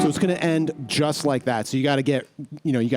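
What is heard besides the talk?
No everyday noise stands out behind the speech.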